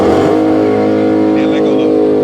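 A Dodge Scat Pack roars close and loud at steady high revs, its engine note holding as it slides to warm the tires, with someone talking over it.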